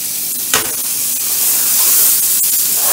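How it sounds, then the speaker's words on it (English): Butter hissing and sizzling loudly in a hot pan alongside steak in a dorm kitchen, a steady close frying crackle after a brief clank near the start. "Might just throw a little butter in there,"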